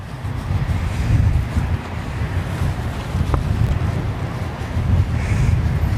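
Blustery wind buffets an outdoor microphone near London Heathrow, a steady loud low rumble with gusts swelling and easing throughout, no voices.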